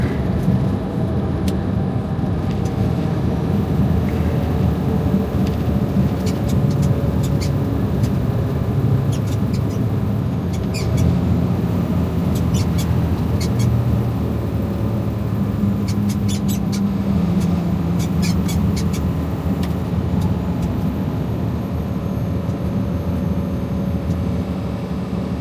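Steady, loud drone of a semi truck cruising on a highway near Crown Point, Indiana, with constant low engine and road rumble and no talk.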